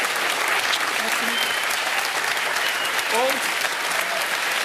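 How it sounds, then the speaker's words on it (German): Studio audience applauding the farm-women cooks at a Swiss cooking show finale, a steady dense roar of clapping throughout, with a voice speaking briefly over it near the end. "Das ist euer Applaus, weil ihr so viel gekocht habt."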